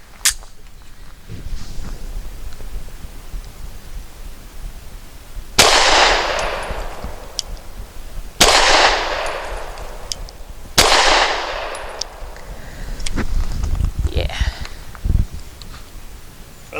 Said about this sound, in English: And I'm going to shoot at circle 7 because I just shot circle 6.